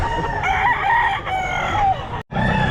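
A rooster crows loudly and close by at a pet market, with repeated crows and clucks over background crowd chatter and people talking.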